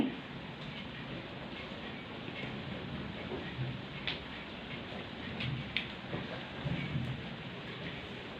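Rain falls steadily outside at dawn, a soft, dense, continuous hiss with occasional faint drips and ticks, heard alone at low level throughout.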